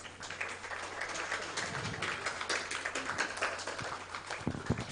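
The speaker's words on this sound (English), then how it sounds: "Big applause." Audience applause at a music therapy centre event in India, a steady wash of clapping from a modest crowd lasting the whole stretch, moderately loud and fairly close, with no voices standing out.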